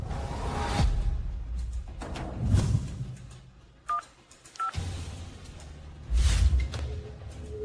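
Telephone number dialed on a phone keypad, a series of short, clear DTMF tones spaced across the clip with some rustling and movement noise in between.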